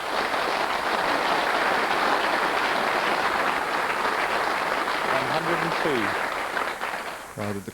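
Big theatre crowd at the Crucible in Sheffield applauding a century break in a 1997 World Snooker Championship match, a steady dense roar of clapping that holds throughout, with a commentator's voice faintly under it near the end.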